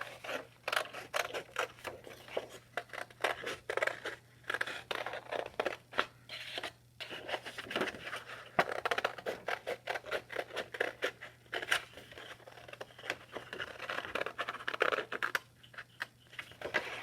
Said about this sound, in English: turn the paper as we cut, not your hand